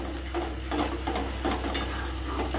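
Beans frying in a pan over a low flame while being stirred, a steady soft sizzle with scraping stir strokes coming through close by, and no talk.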